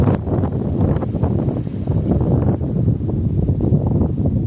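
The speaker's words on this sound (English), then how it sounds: "This wind is kicking my ass." Wind gusts roar steadily into the microphone outdoors during a fishing trip, a dense low buffeting that continues without a break.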